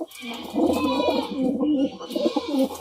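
Pigeons coo close by in soft, rolling, repeated calls, several overlapping phrases across a few seconds.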